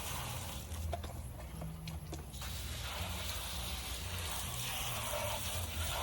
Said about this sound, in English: Rinse it off. Just gonna rinse it off.